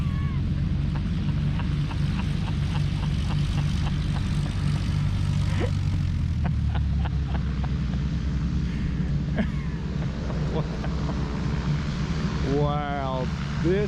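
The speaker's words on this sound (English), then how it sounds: "I assume that's a radial engine in that thing." A propeller aircraft with a radial engine rolls in, its steady droning roar holding loud and close throughout, with a brief voice near the end.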